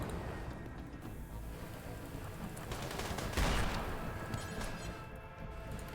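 Rapid bursts of video game gunfire crackle throughout, dense overlapping shots building to a louder peak near the middle before easing off, with no speech.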